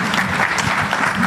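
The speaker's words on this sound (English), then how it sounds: "A round of applause for Dr." An audience applauds Dr. Henry, a public finance specialist introduced as a panelist at a Kenyan economic forum, a short burst of dense, close clapping at full strength.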